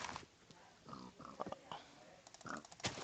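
Several pigs in a video game oink and grunt in quick, scattered bursts, fairly faint against a noisy background.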